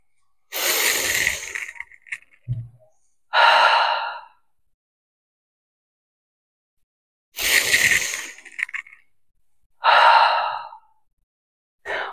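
Deep, forceful breaths during a prenatal Pilates upper-body exercise, heard close and alone as two rounds of a long airy inhale followed by a shorter exhale, separated by silent pauses.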